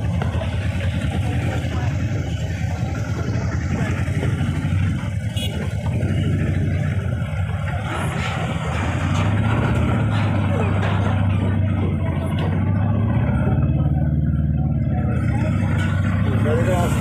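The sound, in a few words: road traffic noise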